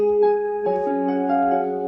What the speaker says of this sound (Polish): to jest dźwięk powitalny